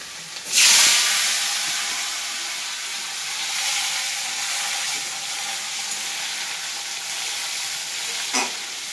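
Chopped tomatoes dropped into hot oil in a kadai, bursting into a loud hissing sizzle that settles into a steady frying crackle, with a brief clink near the end and no voices.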